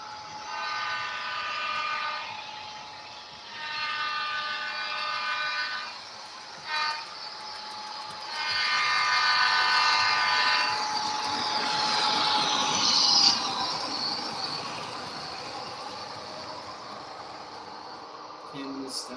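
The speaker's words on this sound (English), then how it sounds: "I'm gonna stop the trains right there" Model railroad trains on a home layout, running with a steady rolling rumble and repeated horn-like tonal blasts that come and go over about nineteen seconds, near and moderately loud with faint background noise.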